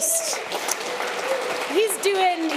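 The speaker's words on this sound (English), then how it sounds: "Big round of applause for Patrick." A conference audience gives a round of applause for a presenter, steady clapping at moderate volume while a voice talks over it, with a few higher vocal sounds rising above the claps.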